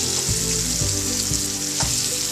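Onions frying in a hot pan for a Punjabi stuffed eggplant dish, a steady loud sizzle with occasional stirring scrapes, no voices.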